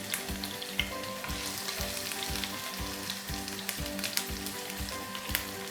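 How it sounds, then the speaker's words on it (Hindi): Chopped onion and ginger fry in hot oil for a Hindi-style saag dish, giving a steady close sizzle with occasional spits and pops and faint stirring scrapes, with no talking. "तो इसमें मैं थोड़ा सा बस प्याज डालूँगी, थोड़ा सा अदरक डाल देते हैं इसमें"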